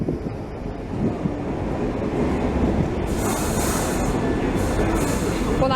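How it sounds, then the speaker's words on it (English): A London Underground Piccadilly line train pulls into the platform with a loud, steady rumble of wheels and motors, joined partway through by bright hissing and squealing from the rails. "And here is the Piccadilly line"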